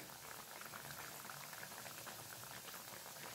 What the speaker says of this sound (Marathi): तिकडे तळून होत आहे